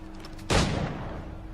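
A single loud gunshot rings out in the Assassin's Creed 3 video game during the Boston Massacre scene: a sharp, sudden blast that decays over about a second, following quiet game ambience.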